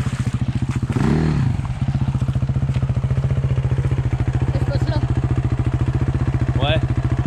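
A quad bike idles and putters close by with a steady, throbbing engine pulse while it pushes into water, with a brief splashing surge early on and people talking over it.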